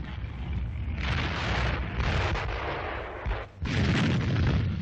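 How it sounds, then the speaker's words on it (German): Enemy artillery shells impacting in a 1942 wartime newsreel, a dense, loud, continuous roar of blasts and rumble with a brief dip before another heavy surge, no voices. "Einschläge der feindlichen Artillerie"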